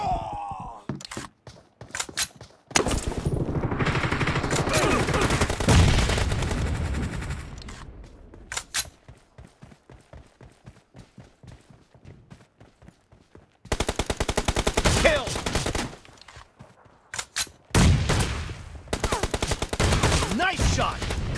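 Gunfire in the mobile shooter PUBG Mobile, played on an iPhone 13 Pro Max: dense automatic bursts and rapid single shots, loud and close, broken by short pauses.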